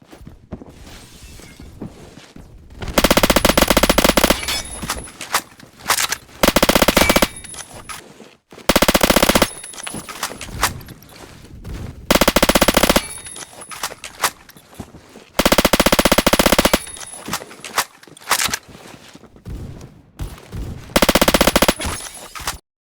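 Automatic gunfire from a video game gun, several long loud bursts of rapid fire separated by short quieter gaps with faint handling and footstep noises, repeating at a steady rhythm.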